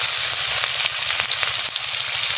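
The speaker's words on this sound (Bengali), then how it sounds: "তেজপাতা দিয়ে দিচ্ছি এবারে পেঁয়াজ কুচি দিয়ে দিচ্ছি" Chopped onion frying in hot oil with bay leaf and whole cumin, a steady loud sizzle with faint stirring clicks throughout.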